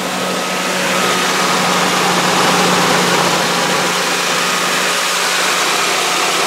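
A loud, steady idle from an old Nissan pickup truck engine running rough, with a low rumble and a slightly uneven note, close by with no voices.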